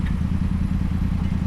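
A motorcycle engine runs steadily at low revs for a learner rider, a close, continuous mid-pitched throb with a slight lift in revs and no clear peaks.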